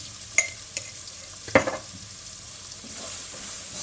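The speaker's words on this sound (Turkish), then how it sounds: "Şimdi sebzelerimizi unumu güzelce sote edeceğim." Vegetables with a spoonful of flour sauté in a pan with a low, steady sizzle, while a few sharp stirring clinks and scrapes stand out near the start and middle.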